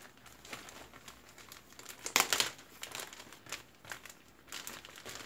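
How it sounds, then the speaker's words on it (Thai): Plastic zip-lock bag crinkled by hand, used for storing banana leaves, giving a run of close, crisp rustles with a louder crunchy burst midway and softer crinkles continuing throughout, no voices. "ถ้าใครมีเป็นถุงซิปล็อกแบบเนี้ยเป็นถุงซิป ก็จะง่ายนะคะ"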